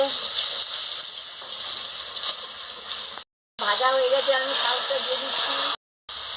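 Dried red chillies and garlic frying in hot oil, with a loud, steady hissing sizzle that runs throughout, broken by two short silent gaps. A voice is faintly heard over the frying.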